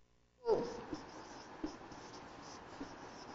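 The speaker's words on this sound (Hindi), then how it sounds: "तो इसी को हम लिख देते हैं" Chalk or marker strokes on a board during a science lecture on gravitation, heard as a faint scratchy hiss with a few soft taps. The sound is quiet and close.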